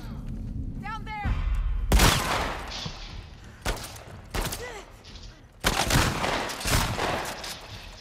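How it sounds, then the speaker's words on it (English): Shotgun blasts in The Last of Us Part 2, several loud, sharp booms spaced a second or two apart amid game noise, with a voice speaking between shots. "So many shotguns."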